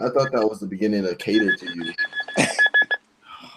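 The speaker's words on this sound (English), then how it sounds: "my lights went off, and that was the alarm going off." An alarm goes off after the lights go out, giving a steady high electronic tone with a short pulsing beeping pattern, heard under and just after lively talk.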